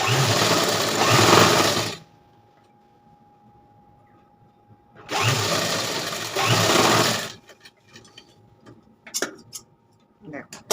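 A sewing machine stitches a blouse seam in two steady, close whirring runs of about two seconds each. Light clicks of fabric handling follow in the quiet.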